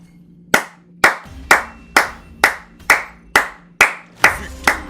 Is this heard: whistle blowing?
no